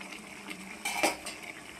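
A metal lid is lifted off a cooking pot of drumstick and egg curry, giving a short clink and scrape of metal on metal, followed by faint softer cookware clatter in a quiet kitchen.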